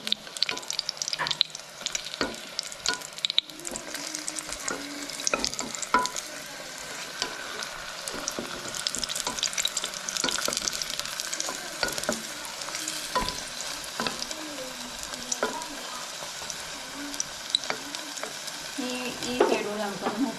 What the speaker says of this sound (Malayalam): പൊരിച്ചെടുക്കാം നമ്മളുടെ മുട്ട പപ്സ്